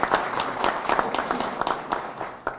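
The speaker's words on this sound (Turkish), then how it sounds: "Bence herkes kendini bir alkışlasın." An audience applauds at a Turkish farmers' support event, a dense, steady patter of many hands clapping together at close range for a few seconds, with no voices rising above it.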